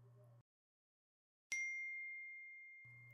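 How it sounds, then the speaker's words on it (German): A phone notification chime sounds once as a clear, bright ding that rings out and slowly fades, set between short stretches of quiet low sound. "Eine neue Benachrichtigung."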